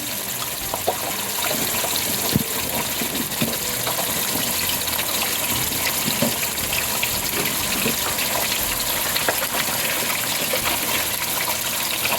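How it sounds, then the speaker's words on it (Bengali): Ginger garlic paste sizzles in hot oil in a pan for chicken mince, a dense continuous hiss scattered with small sharp pops, steady and close for the whole stretch. "তেলের মধ্যে একটু আদা রসুন পেস্ট দিলাম"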